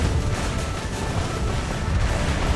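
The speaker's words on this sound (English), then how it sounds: "There's so much explosions. Is this a Michael Bay film?" Rumbling barrage of explosions in the naval battle video game Azure Lane, dense low booms overlapping continuously at a fairly loud level with no speech.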